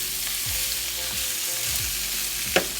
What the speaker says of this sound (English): So we're going to give that a stir.